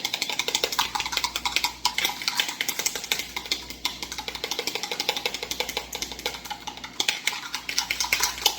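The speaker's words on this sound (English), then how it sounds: "Get your one egg, beat it." A fork rapidly beats a single egg in a bowl for an egg wash on cheesy garlic bread, making a steady stream of quick, close clinks and taps that run without a break.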